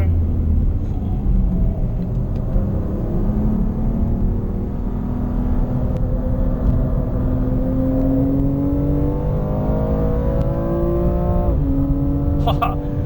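A 2019 BMW M2 Competition engine drones steadily on the Sepang race track and rises in pitch as it accelerates, shifting gear near the end, loud and continuous.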